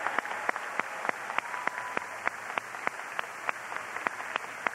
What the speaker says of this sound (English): You guys want to stand and give a round of applause.